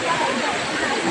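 Kuttalam waterfall pours in a broad, steady rushing roar of falling water, a dense continuous hiss with no breaks during this brief moment.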